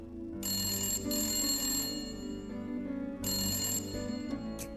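A phone ringtone rings in two repeated bursts, a bright electronic tone over a low steady hum, with no one answering.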